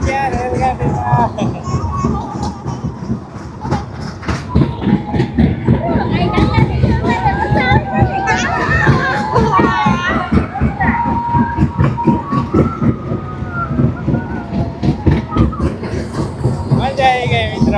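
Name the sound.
fairground toy train ride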